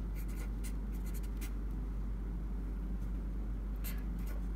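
A pen writes a formula by hand, producing soft, brief scratching strokes in small bursts over a steady low background hum, faint and close with no talk.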